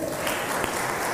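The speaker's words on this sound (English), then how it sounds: "Another round of applause." A brief burst of audience clapping for conference panelists, full and even, with many hands applauding together at moderate volume.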